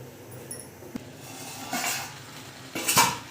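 A spoon scrapes and clinks against a cooking pot while veg biryani is stirred, a few soft metallic knocks and scrapes close by, with no talking.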